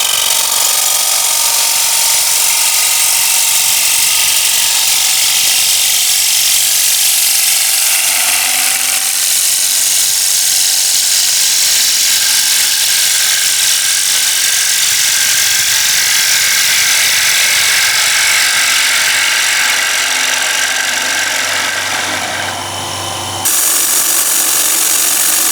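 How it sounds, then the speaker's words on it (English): Steady, loud abrasive whir of sanding a wooden bowl spinning on a lathe, continuous broadband hiss with a low motor hum, stopping abruptly near the end. "So we finished sanding the second bowl."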